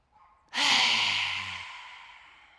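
One powerful open-mouthed lion's breath exhale in yoga practice, preceded by a quiet inhale, then a sudden loud raspy rush of air tapering gradually into silence, very close.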